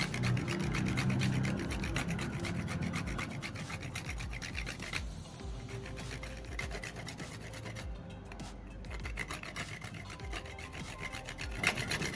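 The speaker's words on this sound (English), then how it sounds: "I'll grate in the little of the nutmeg" Whole nutmeg is rasped against a grater for Nigerian pepper and onion puff puff, making a steady, close scraping rhythm of quick repeated strokes with short pauses.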